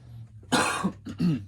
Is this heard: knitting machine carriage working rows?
no